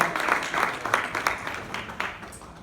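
An audience at a school talk gives a round of applause, a moderately loud, dense patter of many hands that runs steadily for a couple of seconds with no voices on top.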